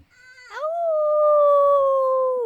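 A person imitates a wolf howl during a family seasonal ritual: one long, loud, steady wail that rises sharply at the start, then holds a level pitch before tapering off. No one else talks.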